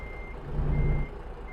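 A truck backing up a trailer sounds a steady high reversing beeper over the low rumble of its idling engine, close by.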